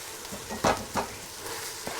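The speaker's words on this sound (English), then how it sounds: "Give it a good stir" A spoon stirring garlic shallot puree through onion soup in a pot, giving a couple of brief scraping swishes over a faint simmer, close and fairly quiet.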